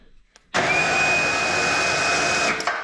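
Electric winch on a Can-Am HD11 Defender spooling out cable, a steady whirring motor drone starting abruptly and running close and loud for about two seconds with a faint rattle as it stops.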